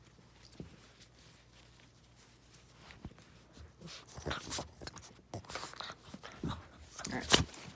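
A dog moves about a room during carpet vacuuming with a Hoover WindTunnel, giving faint, scattered panting, snuffling and paw sounds that grow a little busier toward the end.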